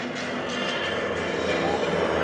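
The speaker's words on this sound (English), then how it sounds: "On the command from the leader, the flight will execute a 90-degree right maneuver to change the formation into trail." GEICO Skytypers aircraft formation flying a right turn at an open house air show, a continuous propeller engine drone heard from a distance, with a voice narrating over it.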